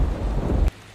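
Steady heavy rain with a low thunder rumble during a storm, loud and continuous before cutting off abruptly near the end.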